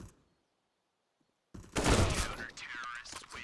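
A UMP submachine gun opens up in a battle royale match after a near-silent pause, rattling in a loud rapid burst among other gunfire while a commentator talks over the action.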